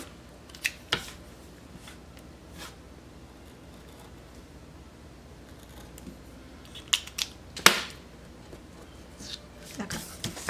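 Scissors cutting paper for a planner spread, a few crisp isolated snips scattered over a quiet background, with a cluster of sharper cuts toward the middle and end.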